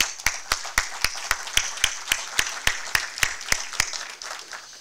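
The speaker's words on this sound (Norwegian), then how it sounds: "Jeg fortjener en skikkelig applaus til Eni" An audience at the Kirkenes conference in 2015 applauds Eni. Steady, rapid claps sound close, with a fuller wash of clapping behind them, and continue evenly for about five seconds.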